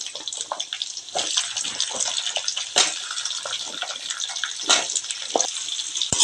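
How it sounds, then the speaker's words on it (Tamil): Raw mango pieces drop into hot oil for a quick pickle, setting off a steady, close sizzling hiss with a few brief louder splutters and no voices. "நம்ம இப்போ மாங்காயை சேர்த்துக்கலாம் அப்படி டக்குன்னு கொட்டிடாதீங்க எண்ணெய் மூஞ்சல தெரிக்கும்"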